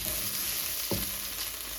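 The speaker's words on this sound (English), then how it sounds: "So we continue frying the okra" Okra fries in a pan with a steady close hiss of oil, broken once by a short scrape or stir partway through.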